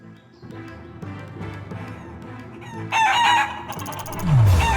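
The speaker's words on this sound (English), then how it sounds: "Of course we will catch the chickens." Chickens cluck and crow in the video game Shenmue 3, loud bursts in the second half over steady game music and ambience.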